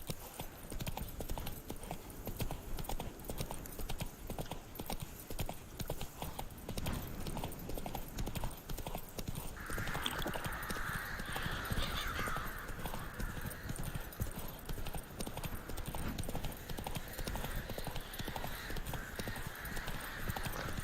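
A horse gallops in The Witcher 3: Wild Hunt, with fast, continuous, rhythmic hoofbeats over game ambience and music, with faint occasional talk.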